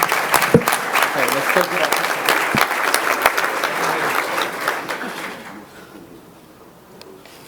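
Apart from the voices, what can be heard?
applause for Magnolia High School welding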